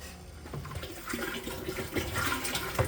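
A pond pump moves backset liquid for sour mash with a steady, close sloshing and gurgling water rush that runs continuously, fairly loud and with no voices.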